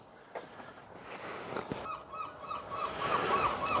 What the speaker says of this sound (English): Even the seagulls are laughing at us.